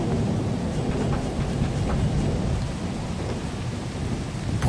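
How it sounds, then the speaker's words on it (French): A thunderstorm in the video game Lethal Company brings heavy, continuous rain and deep rolling thunder that fill the whole scene, loud and close, with no voices heard. "Et vu qu'il y a de l'orage."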